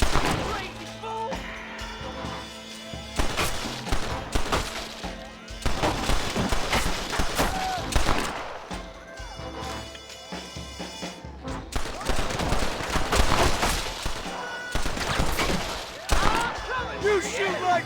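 Repeated gunfire crackles in Red Dead Redemption on Nintendo Switch, with loud bursts and volleys throughout and game dialogue spoken over the shooting.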